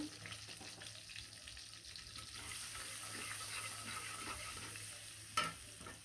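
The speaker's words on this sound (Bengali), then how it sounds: "এখন কুচি কুচি করা পেঁয়াজগুলো দিয়ে দেবো" Chopped onions fry in oil in a pan, a soft, fairly distant sizzle under faint background hiss, with one brief clatter near the end.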